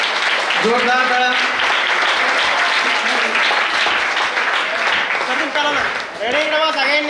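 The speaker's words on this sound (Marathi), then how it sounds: "जोरदार टाळ्या." Crowd applause at a school academy's Guru Purnima event, steady clapping throughout with a voice talking over it near the start and end.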